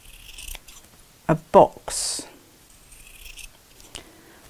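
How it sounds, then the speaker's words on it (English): Scissors snip through a piece of felt while a dinosaur toy is being made, a few quick, close cuts in short bursts with quiet moments between them, and a voice speaks briefly. "take your piece of felt, your scissors, and we're going to cut"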